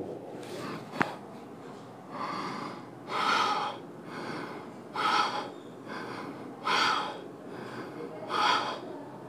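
Deep rhythmic breathing during a yoga pose, with chest lifted and arms pulled back, about five slow even inhale-exhale cycles close up, with a brief sharp click near the start.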